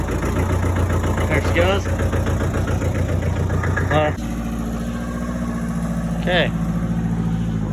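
A buggy engine holds a steady, loud high idle close by, a continuous throbbing drone that shifts to a slightly lower settled tone partway through, with someone speaking briefly over it.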